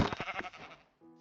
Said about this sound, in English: Lots of sheep out here.